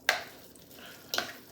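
A spoon scrapes twice through a tuna fish mixture with mustard in a bowl, two short close strokes spaced about a second apart over quiet background.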